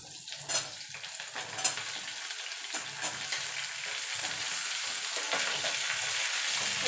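Pumpkin pieces fry alongside bitter gourd in a pan, giving a continuous close sizzle that builds steadily, with a few soft stirring knocks early on.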